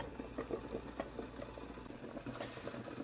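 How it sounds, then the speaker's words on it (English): A veal tongue in a pot of water at a constant boil over high-medium heat, giving a soft, steady bubbling and faint popping at low level throughout. "the veal tongue continues to cook at a high-medium heat, constant boil."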